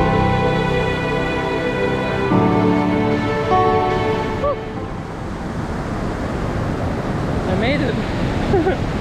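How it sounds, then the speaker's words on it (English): A 40-meter waterfall in Georgia's Kakheti wine region gives a continuous broad rushing roar that fills the whole stretch, with faint tonal sounds layered over it at the start. "A waterfall 40 meters high or deep"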